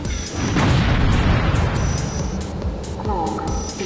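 A deep rocket blast booms in the futuristic racing game Wipeout 3 Special Edition, one heavy burst over constant engine roar and music, with short electronic warning announcements cutting in.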